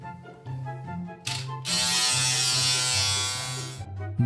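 An electric razor shaving a face hums with a steady low motor drone. Midway a loud rasping buzz takes over as the blades run across stubble, then it eases back to the plain hum, close up.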